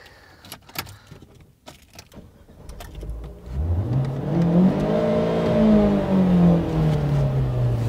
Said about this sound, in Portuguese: É só engatar primeiro e acelerar.